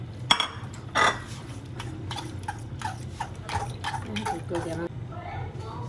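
Three ingredients for a Spanish potato omelette (tortilla de patata) being mixed in a bowl: light clinks and scrapes of a utensil against the bowl, with a couple of sharper knocks, under a speaking voice.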